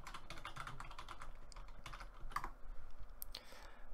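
Fingers type a wallet password on a computer keyboard, a quiet, quick run of irregular key clicks close to the microphone, with a couple of sharper taps near the end.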